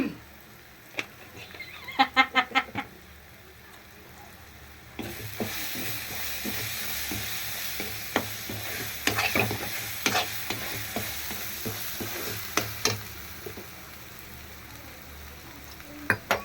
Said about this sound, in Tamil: நல்லா வதங்கி அடிச்சு இப்போ மிளகா மிளகாப்பொடி போட்டுக்கலாம்